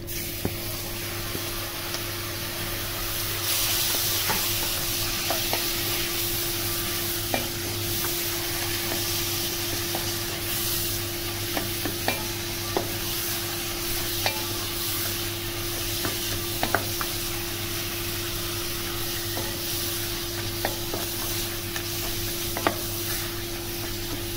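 Tomatoes go into a hot pan for a Sindhi village chicken curry, the sizzle surging briefly then settling into a steady hiss over a low hum, with occasional scrapes and taps from stirring.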